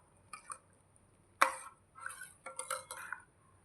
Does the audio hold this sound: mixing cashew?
yes